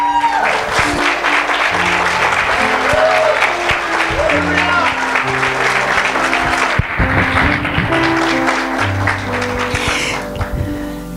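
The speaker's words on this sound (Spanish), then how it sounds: "yo le daría un aplauso al Señor" A church congregation applauds in a sustained, loud round of clapping, with musical tones and voices mixed in throughout.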